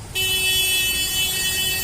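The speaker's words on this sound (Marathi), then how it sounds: "किती वेळ टाकते आमच्या कानात हॉर्न" A vehicle horn on a night street in Amravati blares loudly and continuously, a steady sustained honk held close by for nearly two seconds.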